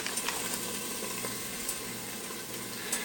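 Onions fry steadily in a pan, a close, even sizzle and hiss with faint crackles that keeps going for the whole stretch, with no talking.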